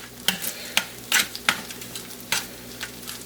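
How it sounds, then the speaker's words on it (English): Roasted cauliflower and bacon are stirred in a sizzling pan, with a steady hot crackle under repeated, quick scraping strokes from the utensil close by. "Give it a little stir here"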